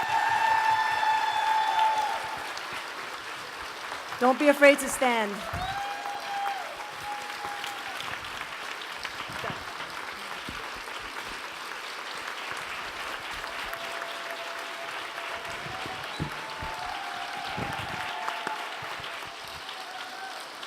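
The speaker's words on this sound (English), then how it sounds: "let's give our families and our staff a round of applause" An audience at a family strengthening summit panel applauds families and staff, a burst of clapping that fades into a long, steady ovation, while a speaker's voice briefly cuts in near the start.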